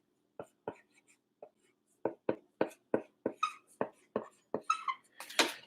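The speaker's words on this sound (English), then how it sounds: "You heard the squeaking marker." A marker squeaks against a board during an 8th grade Spanish lesson, a run of about a dozen short, sharp strokes, sparse at first then quickening into rapid squeaky scribbles, close and fairly loud with no talking.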